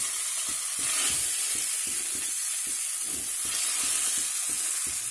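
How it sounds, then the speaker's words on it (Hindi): Pumpkin leaf rikvach rolls fry in oil on a tawa, a continuous hissing sizzle up close, with soft rhythmic bumps of stirring underneath. "ये देख लीजिए, हम तवे पर फ्राई किए हैं।"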